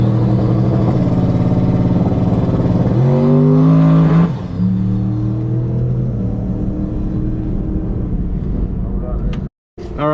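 A twin-turbo 5.0 Mustang launches hard at the drag strip, its engine roaring loudly as it revs up, shifts and pulls away into the distance, with a crowd and voices around.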